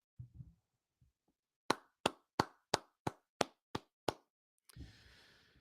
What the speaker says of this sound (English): Now, why am I clapping?